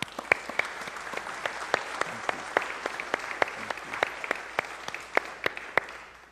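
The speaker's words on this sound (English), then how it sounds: "Let's have a round of applause for them." A church congregation at St. Peter's U.C.C. in Kiel, Wisconsin, applauds steadily for several seconds, with many hands clapping densely and a few sharper claps standing out near the listener.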